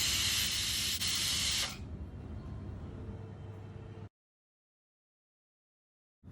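A pressure cooker on the stove cooking beef liver curry lets off a loud, steady steam hiss that drops to a softer rush and then cuts off into silence.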